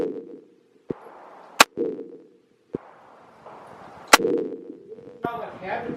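Pistol shots from an M&P 9L at target practice, a handful of sharp, loud cracks spaced irregularly a second or more apart, with people talking quietly between them.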